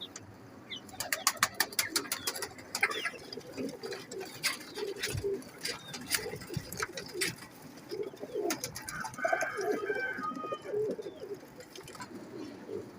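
Red-eyed pigeons coo in low, rolling phrases close by, mixed with brief chirps, rustling and a few clicks, with a voice faintly in the background at times.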